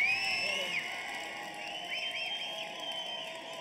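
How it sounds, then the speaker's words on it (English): A large crowd at a bare-knuckle fighting event cheers and whoops steadily, with scattered shouts and a few high whistles over a dense wash of noise. "let's have a nice round of applause for both brawlers"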